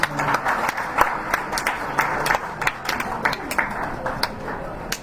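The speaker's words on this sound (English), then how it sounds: "Let us thank them with a round of applause" A modest crowd at a youth pastoral care gathering claps for presenters, an uneven, moderately sized round of handclaps with individual claps standing out, and talk faintly mixed beneath.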